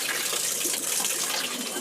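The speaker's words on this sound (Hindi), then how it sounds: "ये लोग मुँह अपना चेहरा धो रहे हैं" Spring water gushes continuously from a tap while people wash their faces, a loud, close, steady splashing flow with no pauses.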